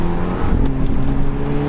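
An Audi TT cabriolet with the roof down sends a steady, loud engine and exhaust drone from up close, a continuous low hum with no talking.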